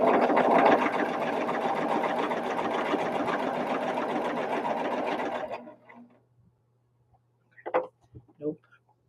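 Sewing machine stitching jelly roll quilt pieces, a steady close whirring run for about five seconds that then stops, followed by a couple of brief handling thumps.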